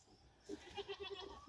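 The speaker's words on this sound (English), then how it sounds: "I think the goats see it." Goats bleat excitedly as fresh hemlock branches arrive: a faint, short run of quick wavering calls, fairly distant, with no talking over them.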